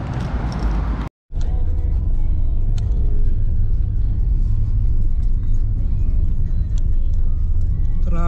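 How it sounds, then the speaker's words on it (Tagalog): Road traffic with cars passing close by, a loud steady engine and tyre rumble that fills the whole span after a brief cut near the start. "Traffic."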